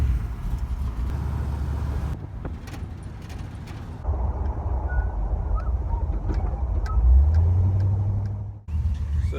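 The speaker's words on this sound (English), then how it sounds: "So let's get it going." A 1968 Chevrolet C10 longbed pickup's engine cranks and catches, settling into a steady low idle with a rising tone near the end before cutting out briefly, heard close up with no talking.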